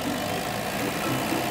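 A cartoon toy tractor's engine idles steadily in a children's farm-play animation, a continuous low rumbling hum without pause, fairly loud and close, with no talk over it.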